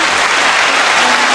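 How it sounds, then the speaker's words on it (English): A short, dense burst of applause, loud and close, filling the whole moment without a break and with no talking over it. "applause"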